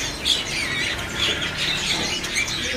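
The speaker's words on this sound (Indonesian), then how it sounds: "Ready juga burung cicak kinoi mudanya nih." A young cucak kinoi bird calls up close, a run of sharp squawking chirps and shrill tweets repeating in short irregular bursts, loud and with no voices.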